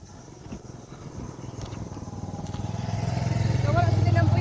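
A motorcycle engine approaches, its steady drone swelling from faint to loud and close as it draws nearer, with voices talking over it.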